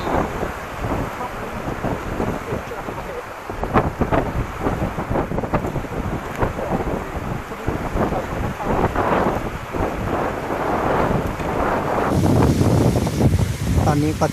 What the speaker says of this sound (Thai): ลมก็ยังแรงเหมือนเดิม